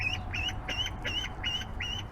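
A young duck quacks hungrily near food in a steady rhythm of about six bright, nasal calls over two seconds, close and fairly loud over a low background hum.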